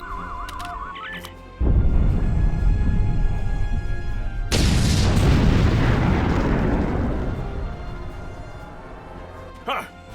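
A loud explosion in the Star Trek Online video game erupts suddenly and roars on, then hits a second powerful blast that rumbles and slowly fades, with beeping interface tones before it.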